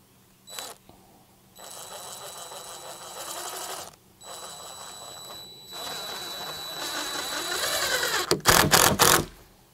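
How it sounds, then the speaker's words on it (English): A power drill drives screws into reclaimed lumber while a chicken coop is built, with a short burst followed by longer sustained whirring runs that rise in pitch, then a few rapid closing clicks. "we're just going to throw a couple screws in to cinch this thing down."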